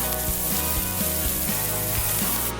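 Food fries in a hot pan at a 4th of July cookout, giving a steady, close sizzle that holds constant for a few seconds with no talking.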